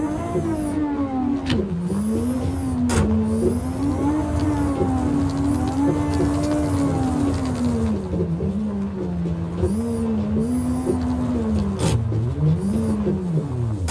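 A Toyota Supra mod driven in Euro Truck Simulator 2 with an H-pattern gearbox, its engine revving and accelerating in waves, pitch rising and falling through gear changes, loud and steady throughout.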